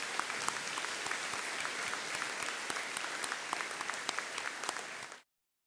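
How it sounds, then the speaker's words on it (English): Steady applause from an audience at a high school graduation ceremony fills the room for about five seconds, dense and even with scattered sharper claps, before cutting off abruptly. "let's pause now and give them a round of applause for all of the work that they've done"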